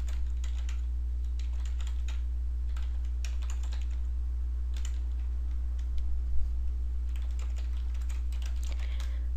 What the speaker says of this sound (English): I'll type in the URL for my store.